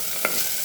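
Two slit green chillies sauté in hot oil for coconut milk rice, a steady sizzle with two brief scraping stirs of the pan, close and clear without any voice.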